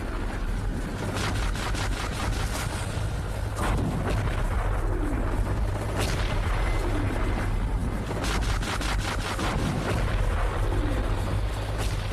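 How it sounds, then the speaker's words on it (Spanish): Naval cannon fire from the battleship Schleswig-Holstein at the outbreak of the Second World War: several heavy booming blasts and bursts of rapid fire over a constant low rumble. "Podíamos oír los cañonazos del Schleswig-Holstein."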